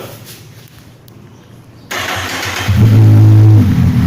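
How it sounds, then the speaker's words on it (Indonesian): A motorcycle fitted with an immobilizer key anti-theft system is cranked on the starter with the key off, then catches and rises into a loud, steady idle with a strong low hum, close and alone. "Nah, kita starter."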